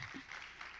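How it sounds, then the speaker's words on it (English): Faint audience applause at a city council candidate forum, a soft, brief patter of clapping heard at low level with a hint of a voice at the start. "You can applaud for that."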